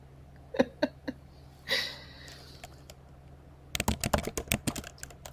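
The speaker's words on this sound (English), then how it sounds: "I hear that typing." Bursts of typing on a computer keyboard, scattered clicks early on and then a rapid close cluster of keystrokes near the end, over a faint steady hum during a casual livestream chat.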